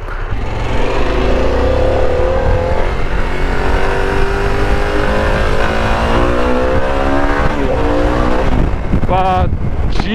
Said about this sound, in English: It's definitely a revvy engine. You've got to get the revs higher.